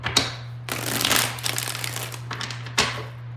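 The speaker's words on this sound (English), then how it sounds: "Let's get 4 shuffles here." A deck of tarot cards is shuffled up close, giving bursts of riffling and papery crackle in a few separate rounds, with a steady low hum underneath.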